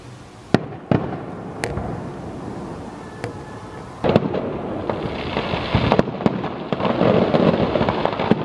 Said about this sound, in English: Listen to those fireworks.